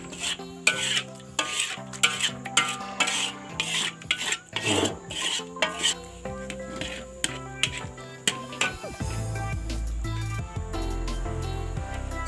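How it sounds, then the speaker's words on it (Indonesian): Palm sugar syrup simmering in a pot is scraped and stirred with a utensil, giving repeated rasping strokes and clinks in an uneven rhythm, close and clear, with a low rumbling bubble joining near the end. "Kemudian kita didihkan sampai dia berambut ya, sampai dia itu kental gitu ya."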